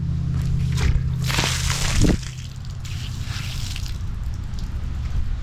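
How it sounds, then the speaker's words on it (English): Soapy slip solution of soap and water pours out of a window tint keg onto a driveway in a loud gushing splash that cuts off after two seconds, leaving a softer trickle and outdoor hiss. "I'm just going to dump my slip solution out here in the driveway."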